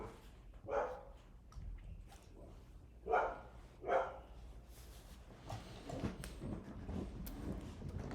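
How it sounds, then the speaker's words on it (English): Several dogs barking indoors in bursts, a few sharp separated barks followed by a busier stretch of overlapping noise, moderately close and fairly loud against a quiet room. "I have to go deal with these dogs"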